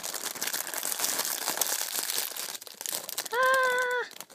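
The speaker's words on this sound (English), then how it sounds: "I'm gonna rip open the packaging." Plastic packaging being ripped open by hand: close crinkling and tearing for a few seconds, then a brief high squeaky tone near the end.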